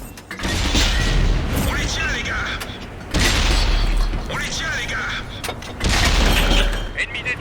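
Leopard 1 tank gun firing in World of Tanks, heard as three loud booming blasts spaced a few seconds apart over dense mechanical rumble and clatter of battle.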